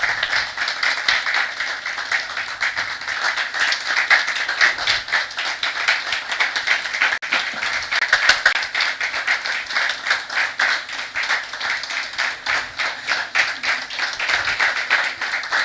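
Steady clapping from an audience at a savings cooperative's regional member education meeting runs continuously for about fifteen seconds: dense, even and moderately loud, with no voices standing out.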